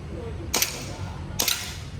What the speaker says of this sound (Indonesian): Ambil, kokang, langsung tembak.